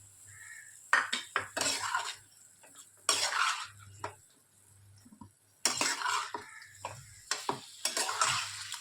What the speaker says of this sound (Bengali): এখন এর মধ্যে পনিরটা দিয়ে দিচ্ছি।